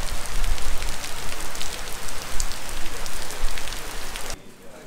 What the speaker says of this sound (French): là il pleut trop, il y a l'orage et tout, il y a des éclairs